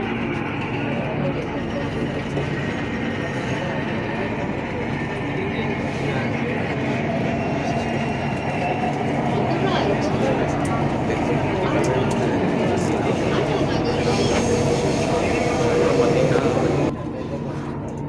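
A Chennai Metro train carries riders along in a steady interior rumble with a rising hum and faint rattles, swelling slightly before an abrupt drop near the end.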